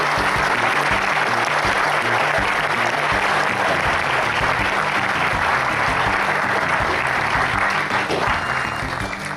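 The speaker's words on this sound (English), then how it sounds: "Another round of applause for Mr. Roth." An audience at a convention Q&A applauds for conductor Arnie Roth, a dense, loud, sustained clapping that holds steady for several seconds before easing slightly at the end.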